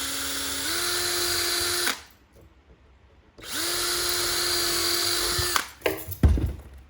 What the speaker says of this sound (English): When you're drilling closer to a tine, especially where it's very dark and heavily veined like this, it's very difficult to drill through